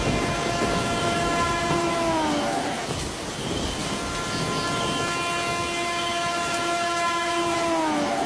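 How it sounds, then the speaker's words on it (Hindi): A train pulling into a railway station at night, its horn sounding long sustained tones in two stretches over a steady loud rumble of wheels and carriages, no talk. "रेलवे स्टेशन पर आखिरी ट्रेन आई।"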